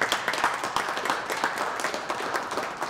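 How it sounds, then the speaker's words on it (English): An audience at a first annual birthday celebration applauds, dense steady clapping from many hands lasting about three seconds, fairly distant. "So can you just give yourselves a round of applause,"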